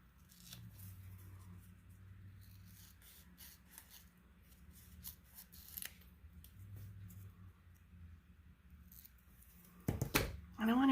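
Scissors cut paper for a mental health journal in a series of soft close snips and rustles, with a low background hum and a louder crinkling handling noise at the end.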